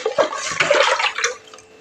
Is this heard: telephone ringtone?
no